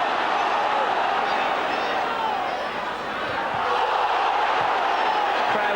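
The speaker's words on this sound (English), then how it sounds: "Crowd screaming for everything now every time the ball goes into the penalty box." A packed stadium crowd at a Leeds United versus Stuttgart Champions League first-round second-leg football match screams and roars in a dense, unbroken wall of noise that barely dips throughout.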